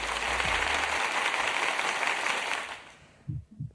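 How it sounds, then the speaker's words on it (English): A canned applause sound effect, a full burst of crowd clapping that runs steadily for nearly three seconds before cutting off, followed by a couple of faint low knocks. "I'm making the applause happen"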